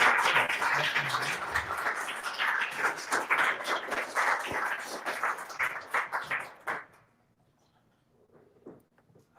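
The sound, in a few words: audience applause for speaker Peter Adler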